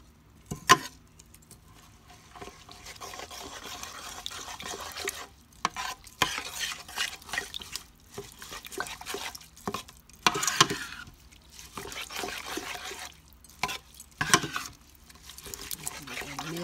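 Spoon stirring coconut powder into a pot of rice and beans, with repeated scraping and gentle sizzling in uneven strokes, close and moderately quiet, with occasional clinks against the pot.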